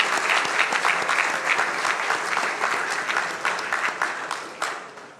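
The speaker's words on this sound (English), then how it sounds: "I still would like us to applaud him for his accomplishments and for recognition of his work" Sustained applause from an audience at an MIT Media Lab awards presentation, a dense wash of many hands clapping steadily throughout before thinning slightly at the end.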